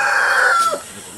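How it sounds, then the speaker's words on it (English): A single sick chicken gives a loud, drawn-out crowing call close by that falls away at the end, with nothing else heard. "Still got quite a few sick birds."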